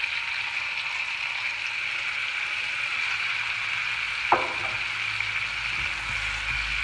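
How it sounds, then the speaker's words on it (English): Pork with its juices sizzles and fries steadily in a pan with wild mushrooms and garlic butter, a constant hiss with one brief clatter partway through. "So chuck the pork in. And then all those juices right back in there."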